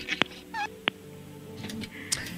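A cat gives short meows, a couple of brief cries among faint background noise and a little talk.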